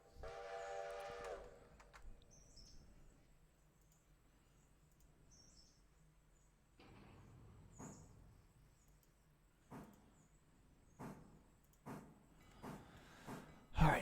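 A train in the Railroader video game sounds its horn briefly at the start, then gives a series of irregular clanks and thumps that grow louder toward the end, with mostly quiet stretches between them.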